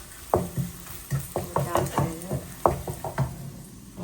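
Dried red chillies are stirred in hot oil for a Tamil-style fish curry, giving sizzling frying sounds under a run of close, rhythmic scraping and knocking strokes from the stirring spoon.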